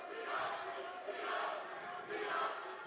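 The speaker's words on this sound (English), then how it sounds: "Crowd getting the defense fired up here." Basketball crowd at a CBC versus Staley game near the end of the first half, cheering in steady swelling waves to fire up the defense, a dense wash of voices with no single words standing out.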